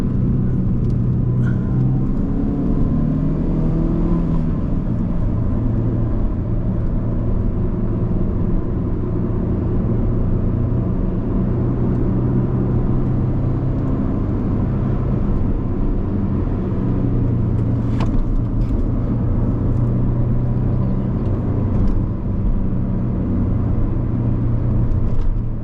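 A BMW car being driven and shifted through gears, a steady loud engine and road rumble from inside the cabin, continuous throughout without clear revving peaks.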